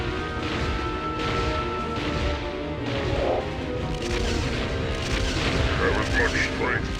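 Shooting in the video game Drakan: The Ancients' Gates, with steady rumbling gunfire and crashing impacts running throughout under a game score, a voice speaking over the action.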